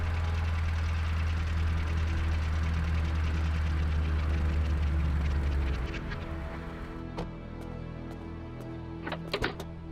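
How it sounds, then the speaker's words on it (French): A car engine runs in a loud steady low rumble with a faint knocking pulse, then fades away after about six seconds, leaving quieter background with a few sharp clicks. "Voilà une voiture."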